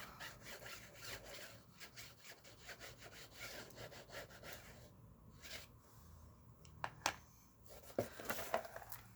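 Quiet, steady rubbing of material into junk journal paper, a soft rhythmic scratchy back-and-forth, close up, with a few sharper brushes near the end.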